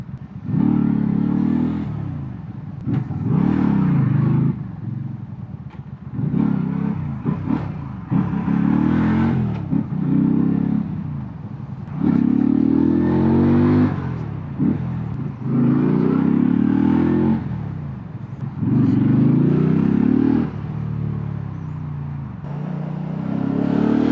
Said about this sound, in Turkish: Acayip trafikte kaldık ya.